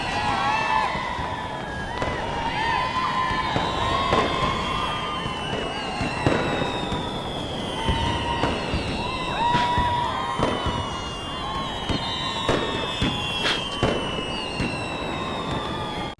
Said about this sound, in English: Umbridge following Fred and George's fireworks